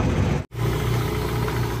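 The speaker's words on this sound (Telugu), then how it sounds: "ఇంకో విమానం వెళ్తుంది మామ" An airplane passes overhead on a quiet night junction street, heard as a steady low engine rumble that continues alone after a brief dropout.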